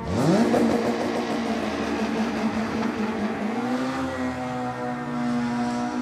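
A Peugeot 306 Maxi F2 kit rally car, a late-1990s rally machine, revs hard close by, its engine climbing sharply in pitch, holding a high whine, then shifting up under a steady loud roar.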